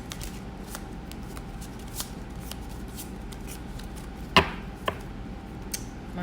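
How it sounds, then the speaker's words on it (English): Cards riffled and shuffled close up, soft papery flutters with a couple of sharper snaps near the end, no talking. "let's get to shuffling."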